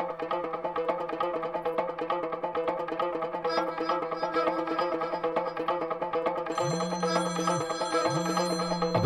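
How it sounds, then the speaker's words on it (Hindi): A phone rings twice in a dense movie scene, with a steady background score running throughout and two ring bursts near the end. "अबे तेरे नंबर से फोन आ रहा है।"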